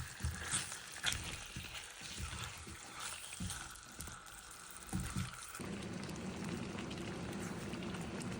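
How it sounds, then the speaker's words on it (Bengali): Eggplant fries in a pan, crackling and sizzling up close; after some clattering handling noises early on, the frying settles into a steady, continuous hiss for the final few seconds, with no talking. "এবার বেগুনটা ভেজে নেব।"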